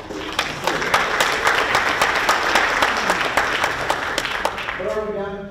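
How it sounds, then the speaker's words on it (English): A seminar audience gives a hearty round of applause, clear individual claps within a dense patter, fading as a voice begins speaking at the end. "So please give yourself a round of applause."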